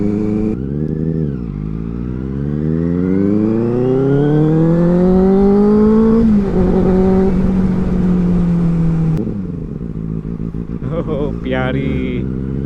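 A Benelli 600i four-cylinder superbike revs hard at full throttle, pitch climbing steadily in a long rising wail, then dropping and holding before a brief lull; loud and close with engine harmonics dominating.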